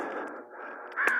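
A crow caws nearby, a raspy call that repeats and then rises into a louder, sharper note at the end, heard alone.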